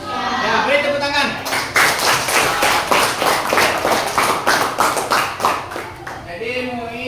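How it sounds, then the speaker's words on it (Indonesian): Students in a classroom break into brisk, rhythmic clapping that lasts several seconds, and voices can be heard before and after it. "Ya, beri tepuk tangan."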